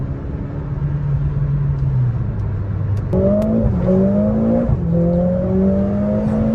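A car engine drones inside the cabin, then climbs through rising revs with gear shifts, its pitch stepping up and dropping again, steady and fairly loud.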